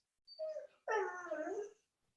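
A dog gives two close, whiny whimpers, a short one and then a longer drawn-out one, in an otherwise quiet indoor setting during a legislative session.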